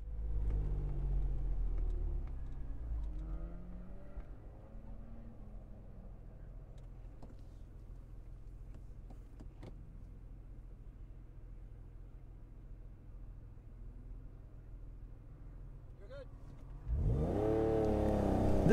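A car at an autocross event rumbles at low revs for a long stretch, then a sharp rising rev near the end as it launches and accelerates hard, close and loud.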